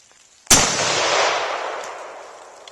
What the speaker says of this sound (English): I'm going to shoot at the little red plate thing.